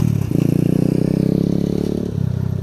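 A 2019 Apollo 250cc Chinese dirt bike being ridden, its engine a loud, close, steady droning rumble that rises and dips slightly with the throttle.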